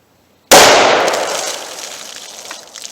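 A 9mm pistol with a 4-inch barrel firing a Speer Gold Dot round into particle board: one sharp, loud shot followed by a long decaying ring and echo.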